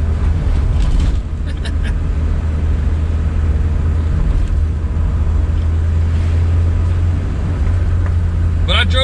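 A stock 2.3L 1979 Ford Mustang Coupe engine given some gas but held near low revs, a steady droning hum with little climb in pitch, under someone talking.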